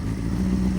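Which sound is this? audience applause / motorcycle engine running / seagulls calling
motorcycle engine running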